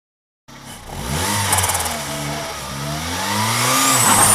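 A turbocharged Nissan Micra engine on the stock wastegate, revving up under load to 11 psi of boost, loud and close with a rising and falling engine note and a faint turbo whistle, no voices.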